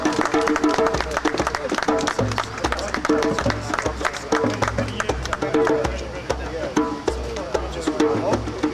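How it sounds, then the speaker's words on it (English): Crowd at a street demonstration outside the US Embassy in London applauding a speaker, steady dense clapping mixed with chatter and voices, loud and continuous throughout. "Can we get a warm round of applause for Comrade Emma?"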